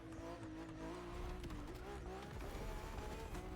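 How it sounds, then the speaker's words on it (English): A turbocharged 1500HP F80 in a video game, its engine holding a steady drone that rises and dips slightly, with a person talking over it. "You can hear the turbos."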